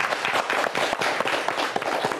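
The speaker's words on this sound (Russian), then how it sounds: "Эти аплодисменты вам." Audience applause at an evening show in Gomel, dense and fairly close, with individual claps standing out in an uneven, continuous patter.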